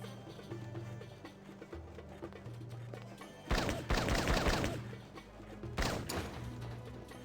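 Guns fire in the Blade Runner video game in two loud bursts of rapid shots over low droning background music, with a few scattered thuds between them.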